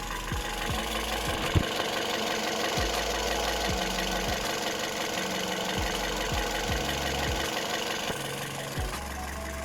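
2012 Toyota Vios 1.5E car engine idling steadily, a close, continuous mechanical hum with a fast, even ticking rhythm, no voices.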